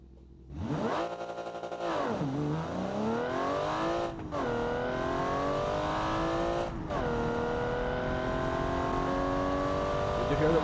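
A drag race car accelerates hard through several gears, its engine loud and close, climbing in pitch with shift breaks between, and sharp exhaust pops heard as it lifts off, while a voice speaks briefly.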